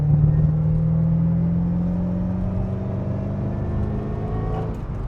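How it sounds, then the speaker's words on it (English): A car in fourth gear accelerates hard, its engine drone rising steadily with a climbing whine laid over it, loud and close throughout, with no talking. "We give it a little prod in fourth gear."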